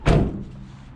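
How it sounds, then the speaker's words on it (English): A van door slams shut with one loud, close thud followed by a short fading rumble, heard alone. "The door works."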